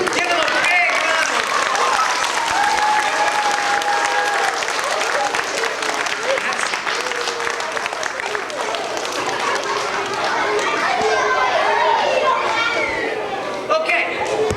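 An audience at a school assembly breaks into sustained loud applause that fills the room, with crowd chatter and children's voices mixed in throughout.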